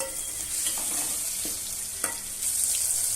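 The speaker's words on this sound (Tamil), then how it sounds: "இப்போ வெங்காயமும் பூண்டும் நல்லா வதங்குது." Onion and garlic sautéing in a pan for a tamarind curry: a steady close sizzle with occasional spatula scrapes and light knocks against the pan.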